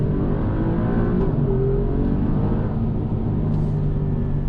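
An Alfa Romeo Quadrifoglio sports car engine revs hard and steadily, its throaty exhaust rumbling loud and close throughout, with no talking.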